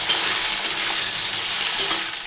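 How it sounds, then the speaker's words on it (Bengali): Slices of ridge gourd fry in hot oil in a pan, giving a steady, close crackling sizzle with no talking. "এখন বসিয়ে দিয়েছি কাঁকরোল ভাজা।"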